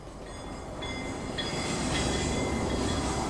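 A train rumbles along steadily in a K-pop music video, a dense, continuous rolling roar that builds slightly louder, with faint high tonal squeals on top and no speech.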